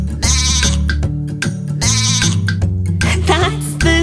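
A sung bleat in a children's nursery song, where a voice imitates a sheep over a bouncy musical backing, repeating in loud, wavering cries.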